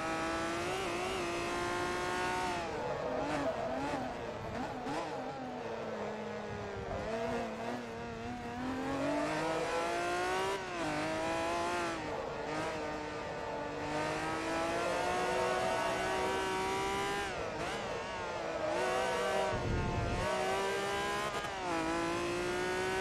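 A Forza Motorsport 2 race car engine drones steadily through the run, its pitch climbing and dropping with gear changes and throttle, loud and unbroken, with no voices over it.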